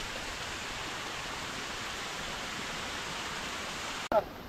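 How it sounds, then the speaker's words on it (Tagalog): A small waterfall at Dinarayong Falls in Ilocos Sur rushes in a steady, even broadband roar, close and constant, cut by a sudden sharp break just before the end. "Meron pa ditong mini falls."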